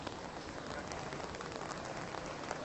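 Heavy rain pours steadily in a dense, even hiss with no breaks, faint and heard alone.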